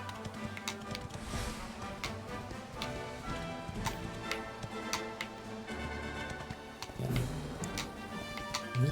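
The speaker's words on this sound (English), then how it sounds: "running over enemies with a horse like that" Horse hooves clip-clop in Dragon Quest XI S: Definitive Edition as the mount gallops along, a steady quick beat of sharp taps over in-game music and ambience, fairly quiet and continuous.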